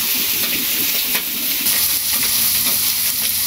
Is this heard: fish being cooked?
yes